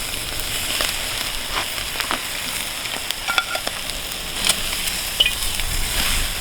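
Skirt steak sizzles directly on glowing charcoal coals, with a steady close frying hiss and scattered crackles and pops, and no voices.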